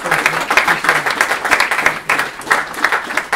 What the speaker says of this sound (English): give Kim a round of applause